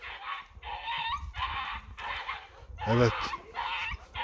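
A dog being mistreated by a woman in Ahlat, Bitlis, gives a rapid string of whimpers and yelps in short repeated bursts. A voice speaks briefly amid the cries.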